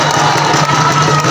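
Loud crowd cheering and shouting at the final of a Surabaya mini soccer match, a dense, steady roar of voices over a low hum, continuous throughout.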